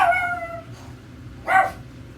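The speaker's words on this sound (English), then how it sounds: "And the dog's gonna bark." Dog barking indoors, two short yips at moderate distance separated by a brief pause, fairly quiet against a low background hum.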